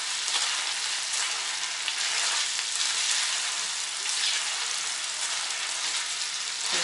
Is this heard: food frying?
yes